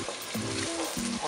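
Fresh crushed tomatoes sizzling in a pan while being stirred, a close, continuous frying hiss broken by short scraping strokes of the spoon.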